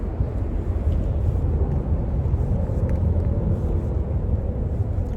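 Airplane from a nearby airport droning over a forest, a steady low rumbling roar that stays constant and fairly loud throughout, with faint wind noise and no speech.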